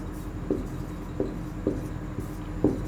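Handwriting on a board or page during a maths lesson, four soft scratchy strokes spaced unevenly over a quiet room hum, close and fairly faint with no talking.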